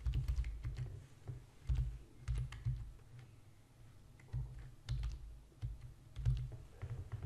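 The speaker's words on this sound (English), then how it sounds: "So I type in here the coordinates of the Netherlands." Typing on a computer keyboard while entering map coordinates for the Netherlands, a steady run of soft, close key clicks in uneven bursts with short pauses, with no speech over it.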